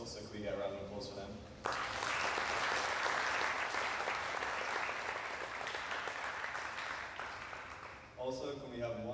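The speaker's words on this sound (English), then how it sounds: "can we get a round of applause for them?" An audience bursts into steady applause for several seconds after a voice speaks, then talking resumes as the clapping fades.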